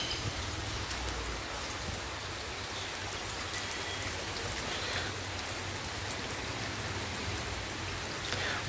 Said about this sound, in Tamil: மழை நிற்கிற மாதிரி தெரியலிங்க.